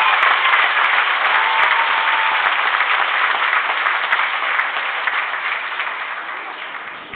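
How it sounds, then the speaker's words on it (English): A crowd at a community rally in Joliet, Illinois claps together in sustained applause, loud at first and tapering slightly toward the end, with no voices over it. "Please applaud Mr. David Velázquez"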